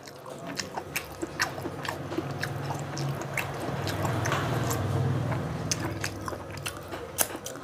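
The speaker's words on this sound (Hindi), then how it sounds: "आखिरी बाइट" A bite of butter mushroom masala with roti is chewed up close, moist squishy mastication punctuated by sharp little crunchy clicks, steady and intimate with no talking.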